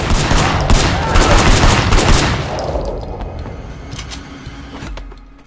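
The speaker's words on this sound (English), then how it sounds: "We're now switching seamlessly from a hand-to-hand combat mission to a shooting mission" Gunfire in the video game Sleeping Dogs, a loud rapid volley of shots up close that fades into scattered single blasts and echoes.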